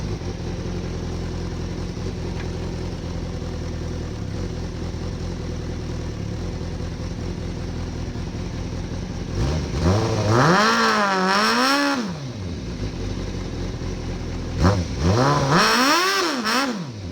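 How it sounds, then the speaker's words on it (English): A lowered motorcycle idles steadily, then revs hard twice for a burnout, each rev rising and falling in pitch with loud rough engine roar and tire noise, close by. "Let's see if it can do a burnout."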